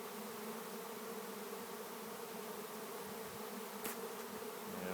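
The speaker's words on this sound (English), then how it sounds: "See, you can see all the bees that are in the area here." A live honey bee swarm buzzes steadily outdoors, a dense continuous drone of many insects close by that holds an even level throughout, with a few individual bees passing nearer toward the end.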